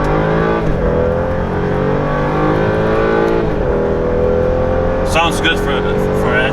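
Exhaust of a BMW with an N55 six-cylinder engine, heard from inside the car during hard acceleration: a loud engine note that climbs in pitch through rising revs, with gear changes.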